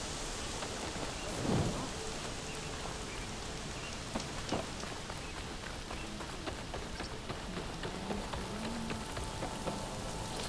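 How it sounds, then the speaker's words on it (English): Steady rain pours in an outdoor scene of the video game Horizon Forbidden West, a dense hiss with a low thunder rumble swelling briefly near the start and scattered soft thuds beneath. "Rain."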